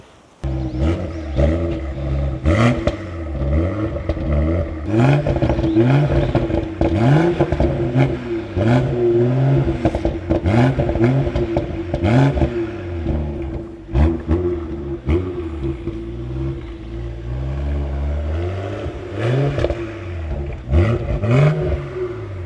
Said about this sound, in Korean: 소리 한번 엔진 소리 한번 들어볼게요